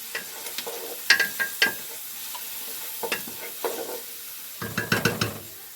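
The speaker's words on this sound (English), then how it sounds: "I'm still stirring the onions over here" Onions fry in a pan while a utensil stirs them, producing repeated scraping strokes in short bursts over a soft continuous sizzle, close and moderately loud.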